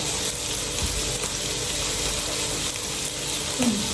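Food frying in a pan gives a steady, broad sizzling hiss throughout, with a few faint knocks and clinks mixed into the low background.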